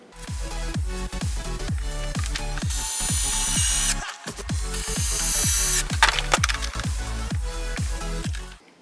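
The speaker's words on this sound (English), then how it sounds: "So let's screw the camera in here" A ratcheting screwdriver or ratchet tool clicks steadily as a camera is screwed onto a robotic lawn mower during a build, a loud, close run of rapid rhythmic clicks with brief pauses and no talk.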